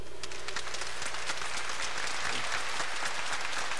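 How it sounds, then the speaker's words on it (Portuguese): Applause from a church assembly audience during a homily at a bishops' conference, dense steady clapping filling the whole stretch at fairly close range, with no voices over it. "Palmas para Jesus."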